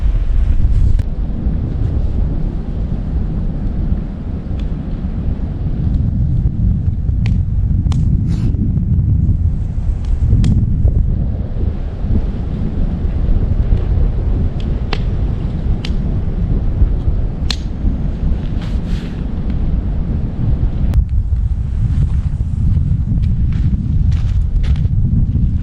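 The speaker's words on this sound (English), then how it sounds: "The wind is coming in up there, not super strong, but enough." Strong wind roars across a tent campsite beside a lake at Lake Carlos State Park, with heavy gusts buffeting the microphone and small snapping and flapping sounds scattered throughout.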